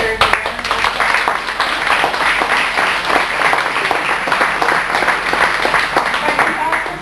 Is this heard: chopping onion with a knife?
no